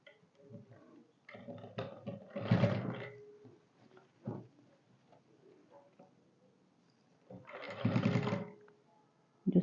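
A sewing machine stitches a band onto a fabric garment in two short bursts of whirring, with quieter handling and rustling between them and a faint voice briefly present.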